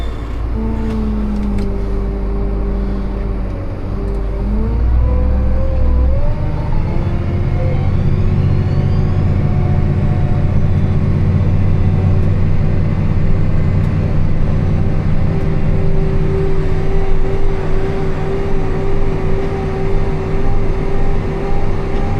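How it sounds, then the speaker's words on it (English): A farm tractor's engine drones steadily while seeding wheat after a peanut harvest, a loud continuous low rumble with a pitch that dips and rises early on, then settles into an even hum. "Tractor's pulling a little bit better than last year."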